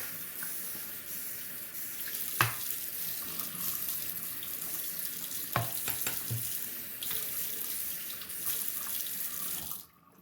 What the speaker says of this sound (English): I'm gonna rinse off the stone really quick